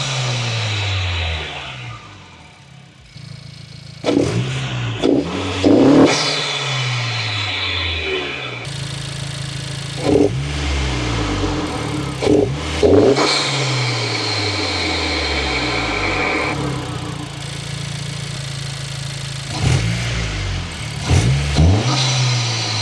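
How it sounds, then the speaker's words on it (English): A 2025 Honda Civic Si turbo engine fitted with a 27won turbo inlet pipe, revving up and down repeatedly, with rising and falling engine tones and whooshing turbo spool and release sounds, loud and close throughout. "When it comes to turbo noise, here's a little comparison between when I didn't have the 271 turbo inlet pipe versus when I put it"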